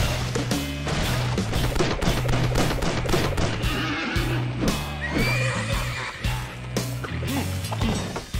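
A horse whinnies and neighs in the Disney Infinity Lone Ranger video game, with galloping hoofbeats and sharp impact hits mixed in, loud and close without talk.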